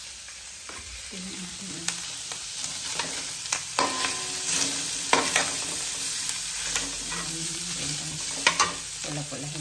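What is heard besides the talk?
sautéing bitter gourd and moringa in a pan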